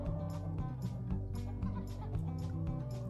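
Cartoonish chickens in the Egg Inc mobile farming game cluck excitedly over a busy, looping game soundtrack. The clucks are repeated and layered throughout, with no talk.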